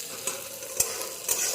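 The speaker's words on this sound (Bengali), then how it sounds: "এখন আমি এই ফোড়নগুলো দিয়ে দিলাম।" Tempering spices hitting hot oil for bitter gourd dal, a short crackling sizzle with a few sharp pops and stirring scrapes, close and fairly quiet.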